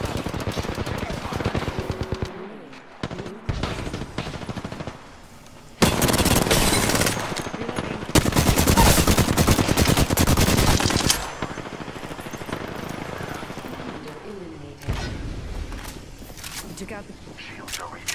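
Automatic gunfire from Apex Legends comes in dense, loud bursts, strongest in the middle stretch, with lighter shots and game voice lines before and after.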